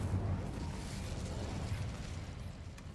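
An Incendio fire spell cast in the Hogwarts Legacy video game makes a low, rumbling burst of flame. It is a dense, muffled roar that lasts about three seconds and fades only slightly at the end.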